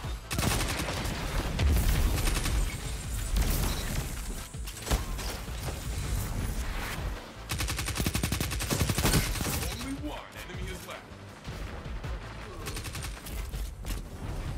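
Rapid SMG bursts in a Destiny 2 Trials match, with dense stretches of close automatic fire broken by brief pauses, and a voice talking faintly underneath.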